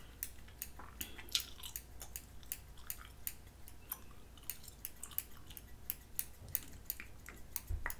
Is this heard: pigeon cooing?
no